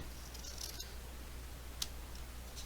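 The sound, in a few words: regular scissors cutting craft paper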